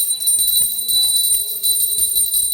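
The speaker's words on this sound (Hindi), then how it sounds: "आराम से घंटी थोड़ी आराम से" A small bell rings repeatedly with a bright sustained tone during a Hindu recitation, its strokes continuing steadily and fairly close throughout.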